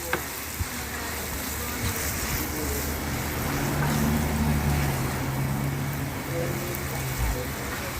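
Fresh shrimp with scallions stir-fried in a sweet and sour sauce, a soft, continuous sizzle with occasional utensil knocks against the pan, fairly quiet throughout.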